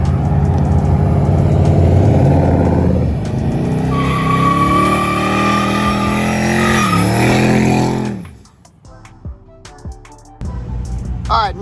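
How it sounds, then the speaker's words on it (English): A car does a burnout on a trailer near the Tulsa track, engine roaring and revving loudly with tires squealing in rising and falling sweeps, then cutting off abruptly into quiet with scattered small clatters and faint noise. "However, trailer burnout is about to happen."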